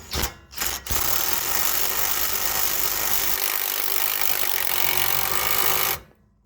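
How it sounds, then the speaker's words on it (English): An impact wrench running a nut tight on a dirt track race car suspension, two short bursts then one long continuous buzzing whir of about five seconds, close and loud. "Got the nut started, now we'll tighten it up."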